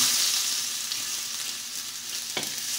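Garlic frying in oil in a pan for fried rice, a steady bright sizzle with a brief scrape or stir knock near the end, close and continuous.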